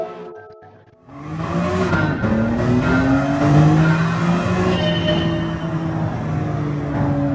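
A 1997 BMW M3 in Gran Turismo 7 revs up after a brief lull and drives off, its engine note rising steadily through the gears with a loud, close, continuous roar and faint tire noise.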